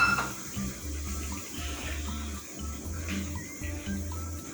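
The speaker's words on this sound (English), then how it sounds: "I'll add some water to this." Water pours steadily into a cooking pot of Indian-style risotto, a continuous splashing rush with a low rumbling undertone throughout, no speech.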